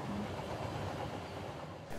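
Steady broadband rumble of a passenger train in India in motion, heard from inside a carriage: a continuous, moderately quiet wash of rolling noise with no clear rhythm and no voices.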